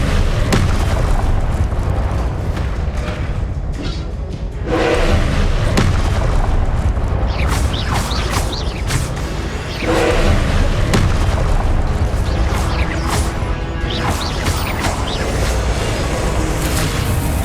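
Spell blasts and fiery explosions in the Hogwarts Legacy video game, a string of loud booming bursts and crackling impacts layered densely over one another across the whole stretch, with a voice shouting spell names now and then.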